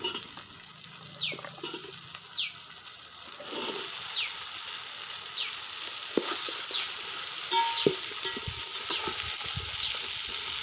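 Cut raw jackfruit frying with tomatoes in a pan for jackfruit biryani, a steady sizzle with a metal spoon scraping and clinking now and then.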